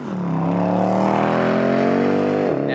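A 2012 Mercedes-AMG C63 V8 revs inside a tunnel, a loud, close, sustained engine drone whose pitch climbs gradually before cutting off abruptly near the end.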